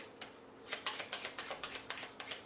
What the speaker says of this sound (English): You can shuffle.